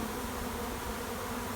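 Honey bees hum from a hive box during queen rearing in a brief, even, continuous drone with no other sounds.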